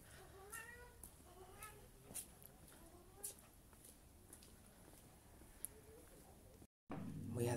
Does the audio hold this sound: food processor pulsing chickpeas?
no